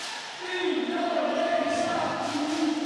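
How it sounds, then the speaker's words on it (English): An energetic crowd fills an indoor arena during a professional ASEAN league basketball game, a steady roar swelling slightly partway through, with a commentator's voice faintly mixed in. "Backed by this energetic crowd inside the Gore basket, Kertajaya"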